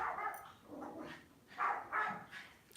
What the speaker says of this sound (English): the barking is putting me off my concentration